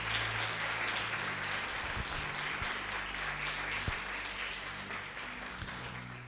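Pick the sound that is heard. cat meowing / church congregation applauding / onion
church congregation applauding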